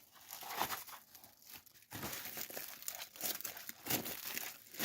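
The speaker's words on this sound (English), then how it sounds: "I'm going to take some bubble wrap and I'll just cut it down" Bubble wrap being cut down for packing gives close, soft crinkling and crackling plastic rustles, continuous and fairly quiet with brief pauses.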